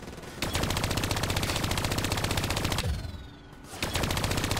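Rapid automatic gunfire from Call of Duty Black Ops 3 while shooting down vats: dense, rhythmic bursts fired continuously, pausing for just under a second before the shooting resumes at full loudness.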